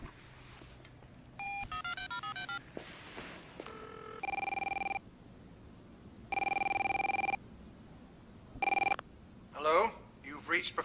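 A telephone rings out in a movie scene after redial is pressed: repeated steady electronic ring bursts alternate with short dial-tone beeps, loud and close, with faint talk at the end.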